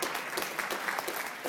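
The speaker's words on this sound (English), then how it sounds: "those are baby boomers applauding" Steady, dense applause from a large audience, filling the whole short stretch at an even level with no voices breaking through.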